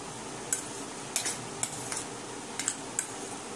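A spoon stirring tutti frutti pieces with red food colour in a bowl gives about half a dozen faint, irregular clinks and scrapes close by, with no talking.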